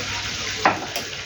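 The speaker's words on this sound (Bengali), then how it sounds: "ভালো করে নেড়ে দিই।" Spiced potato and eggplant with fish being stirred in a frying pan, a soft sizzle running throughout with a single brief scrape of the spoon against the pan partway through, close and fairly quiet.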